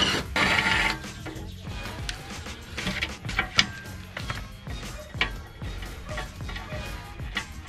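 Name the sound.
torque wrench loosening skid plate bolts on GMC Sierra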